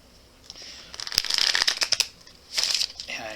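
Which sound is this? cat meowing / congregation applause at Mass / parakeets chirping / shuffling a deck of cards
shuffling a deck of cards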